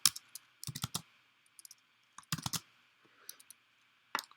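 Keys clack on a computer keyboard while someone types code, in short bursts of quick, close taps with pauses between them and no talking.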